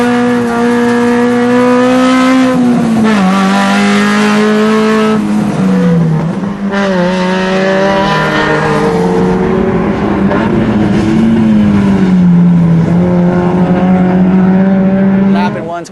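A road race car laps a circuit, its engine holding a loud, steady drone that climbs and falls through upshifts and downshifts as it pulls through corners, close and continuous throughout, with talk over it.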